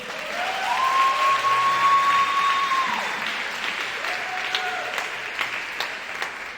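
Broad applause from a church congregation during a worship service, steady and fairly loud, with a sustained tone and faint voices mixed in beneath it.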